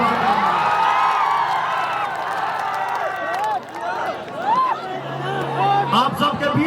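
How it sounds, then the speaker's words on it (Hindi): Crowd at an outdoor political rally in Bihar clapping and cheering, a dense roar of applause and shouts while someone speaks loudly over a microphone. "ताली बजा के आशीर्वाद।"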